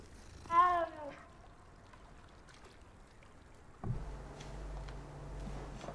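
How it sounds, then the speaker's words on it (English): A cat in the Hogwarts Legacy game gives a short, close meow, followed by quiet ambience and then a low, steady rumbling purr-like sound that continues to the end. "Oh, look at the little cat."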